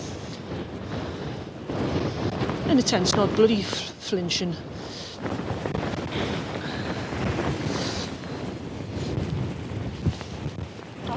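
Strong wind gusting at about 30 buffets the microphone in loud, uneven gusts, with someone talking over the roar.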